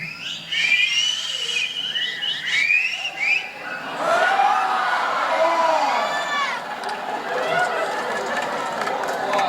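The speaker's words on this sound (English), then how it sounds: "Anybody out there can whistle?" Audience members at a Universal Studios Hollywood animal actors stage show whistle in several rising and falling bursts, loud and close at first, then joined by a wider swell of whistles and crowd chatter that carries on to the end.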